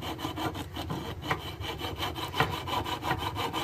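A jeweler's saw cuts through model railroad rail with quick, even back-and-forth rasping strokes, about a dozen in a steady rhythm, close and fairly soft, with no talking.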